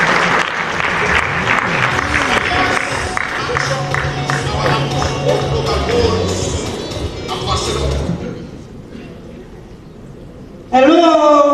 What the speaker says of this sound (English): A big round of applause for UDA.